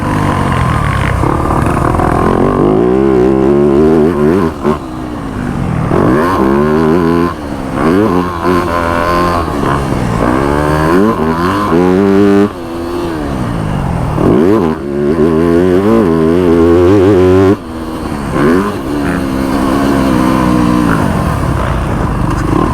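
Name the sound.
Yamaha YZ250F dirt bike riding and jumping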